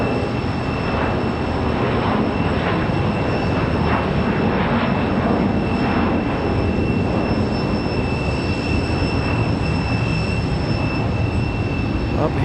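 An American Airlines airliner departs toward Phoenix, Arizona from Raleigh-Durham International Airport, a broad, steady jet engine roar filling the whole stretch at constant loudness, with a faint high whine running through it.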